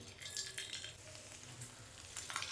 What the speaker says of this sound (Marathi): एक मी तुम्हाला पापड तळून दाखवते